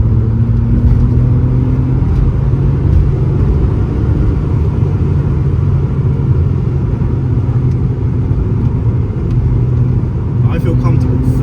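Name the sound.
car engine accelerating through corner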